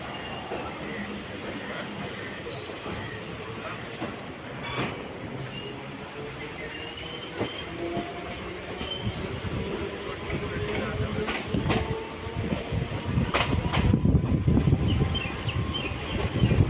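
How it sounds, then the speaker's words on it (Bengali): A commuter train between Dum Dum and Madhyamgram slows as it crosses a bridge over a canal, heard from inside as a continuous rumbling roar with faint rail clatter, growing louder toward the end. "এখানে একটা খাল টপ করছে ট্রেনটা, ব্রিজের উপর দিয়ে যেহেতু যাচ্ছে এই জন্য স্লো করে দিল।"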